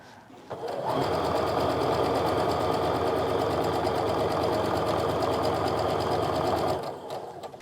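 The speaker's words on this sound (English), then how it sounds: "And I'm going to sew these guys together." Sewing machine stitching quilt block pieces together, a loud close continuous whirring run of about six seconds, starting and stopping cleanly, with no talking.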